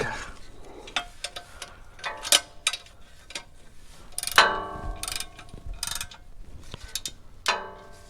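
Ratchet wrench clicking on the transfer case plug of a Lexus LX570, with short bursts of close metallic ratcheting and a few sharp clanks spread across the stretch.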